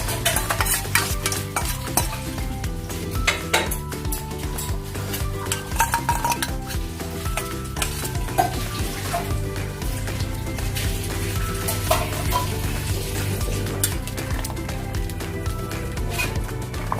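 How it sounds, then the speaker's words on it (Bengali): Shukto, a vegetable curry with mustard paste and milk, bubbling in a pan with a constant dense sizzle and rattle, punctuated by frequent scraping clinks of a utensil against the pan. "দেখছেন শুক্তোটা ফুটছে।"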